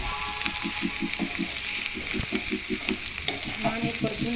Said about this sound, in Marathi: त्याच्यानंतर आपल्याला तुरीच्या दाण्याची पेस्ट टाकायची आहे। हे छान परतून घ्यायचं आपल्याला।